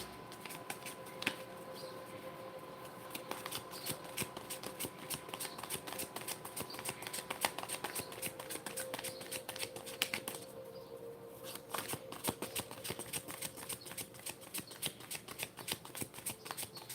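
A Good Tarot deck is shuffled by hand, close up, for a reading. A long run of rapid, crisp riffling and snapping card sounds comes with a brief pause partway through, and no voices.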